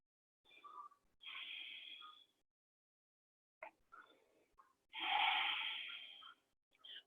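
Slow yoga breathing close to the mic: a long inhale, a pause, then a stronger drawn-out breath, soft and airy with gaps of silence between.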